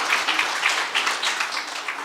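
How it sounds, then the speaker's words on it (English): Audience applause at a teaching and learning conference, a steady wash of many hands clapping at moderate distance, sustained without pause and fairly soft throughout. "Can we give him a round of applause?"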